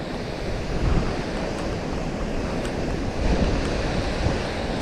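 Rushing water of Thornton Force waterfall, a steady broadband roar close to the microphone, dense and continuous with no talking.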